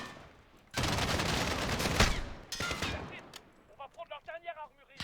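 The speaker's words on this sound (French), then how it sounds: "il y a des tours là qui me tirent dessus là" Gunfire from enemy towers in Call of Duty Modern Warfare, a loud sustained burst of shots for about two seconds, then scattered shorter shots as someone talks excitedly over them.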